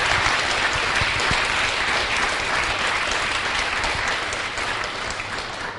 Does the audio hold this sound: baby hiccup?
no